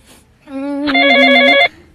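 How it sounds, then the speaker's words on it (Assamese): A telephone ringtone sounds nearby, a loud, bright electronic tone lasting about a second that swells into a stacked, buzzing chime before cutting off abruptly, with no talking. "টাইম ধৰি মই তোমাক ফোন কৰি আছো তুমি ফোনটো ৰিচিভ কৰিব পাৰা নাই"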